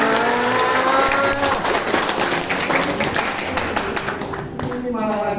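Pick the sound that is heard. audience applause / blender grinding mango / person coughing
audience applause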